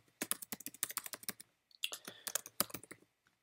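Crisp, quick keystrokes on a computer keyboard patter in two close bursts separated by a short pause, with no voice over them.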